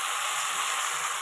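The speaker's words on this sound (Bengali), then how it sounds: "এটা একটু আগে একটু ভাজা ভাজা করে নেব।" Sliced ridge gourd with turmeric sizzling in a frying pan, a steady close crackle and hiss with no voices.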